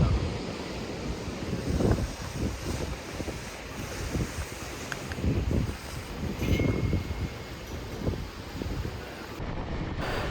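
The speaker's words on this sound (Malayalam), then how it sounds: "ഇതാണ് റിവേഴ്സ് വാട്ടർഫോൾസ്." Rushing water and gusting wind at the Kumbhe reverse waterfall in Maharashtra during the monsoon, a continuous broad roar with repeated surging gusts, close and loud, no talking.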